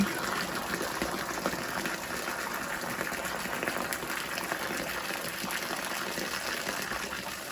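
Water gushing through a cleared drain blockage, a faint continuous rushing, bubbling flow heard at a distance with no talk over it.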